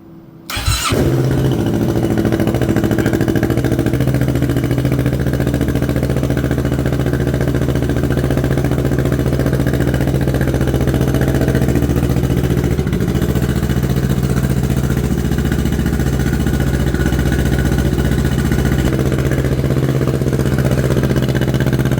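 A 2024 Kawasaki Z650 motorcycle fitted with a Two Brothers exhaust fires up after a brief moment of quiet, then settles into a loud, steady, throbbing idle that continues close by to the end.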